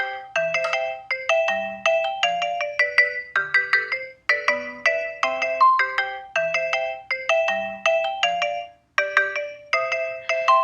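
A played-back synthesized bass line loops a long, long, short note pattern, each phrase repeating in an even rhythm with bright, plucky tones over faint low notes.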